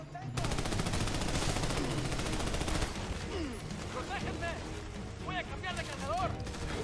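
A pump shotgun fires in the video game Army of Two, heavy blasts over dense, sustained gunfire and explosions in a loud firefight, with a voice talking over the chaos.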